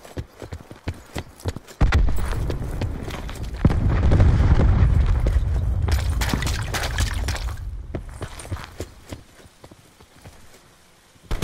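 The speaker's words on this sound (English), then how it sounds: "Cluster grenade going out." A cluster grenade goes off in the game PUBG: a burst of rapid cracks and pops swells into a loud, sustained rumbling roar that fades over several seconds, followed by scattered sharp clicks.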